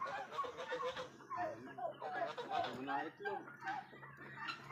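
Turkeys on a farm, kept apart to avoid inbreeding, cluck and chatter continuously at close range, with some laughter and voices mixed in.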